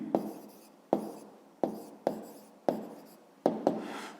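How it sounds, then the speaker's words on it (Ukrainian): A pen writing math homework answers on paper gives about six short, crisp scratching strokes in an uneven rhythm, close and quiet, with no talking. "Далі друге пишемо."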